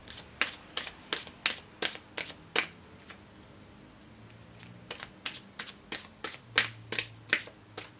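Tarot cards being shuffled in quick, crisp riffles, two bursts of rapid snapping flutters separated by a short pause, close and clear with no voice.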